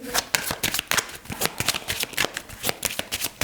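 A deck of tarot cards being shuffled close by, a quick run of crisp riffling flicks and slaps that repeat irregularly throughout, with no voices.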